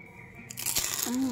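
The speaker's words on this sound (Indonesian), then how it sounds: "Kriuk banget." A crunchy homemade snack made from three ingredients is bitten into, giving a short, close, crackling crunch followed by brief chewing.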